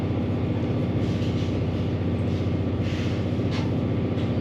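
A pro stock drag racing motorcycle runs down the track at a Seattle drag strip. Its loud, continuous engine roar holds steady throughout, with no voices over it.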